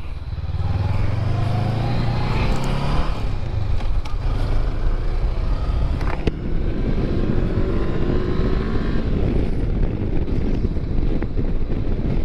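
A motorcycle cruises through winding California canyon hills toward the Bay Area, its engine drone rising and falling under heavy, constant wind rush at the microphone.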